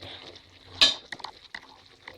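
Chilli paneer cooking in a pan: a soft sizzle under a few stirring scrapes and light clinks of utensil against pan, one sharper scrape standing out, close and fairly quiet.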